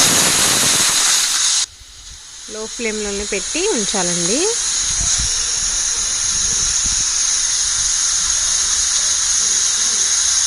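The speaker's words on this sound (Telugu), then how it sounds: "ఇది 3 విజిల్స్ వచ్చే వరకు కూడా ఉంచుతానండి" A pressure cooker cooking homemade baby food blasts a loud burst of hissing steam that cuts off abruptly, followed by someone speaking briefly over a softer, steady hiss that continues to the end.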